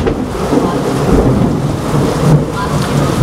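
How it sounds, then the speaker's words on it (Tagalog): Low rolling thunder rumbles through steady rain on a wet day in Baguio, the City of Pines. The sound is a continuous broad wash of rain with a deep rumble underneath. "Kumukulog, kumikidlat."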